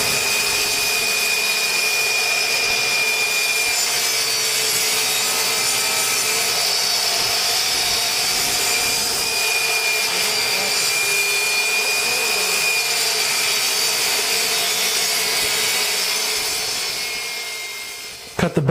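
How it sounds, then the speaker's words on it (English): A power saw cuts through backer board for a granite countertop sink cutout, giving a loud, continuous grinding whine that holds steady for the whole stretch and stops abruptly at the end. "Cut the backer board sink cutout the same way you did the plywood."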